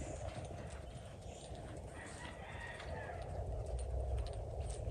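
Spotted Saddle Horse hooves at a flat walk during a gaited horse training lesson: a soft, steady, even clip-clop carried at a distance over a noisy outdoor background.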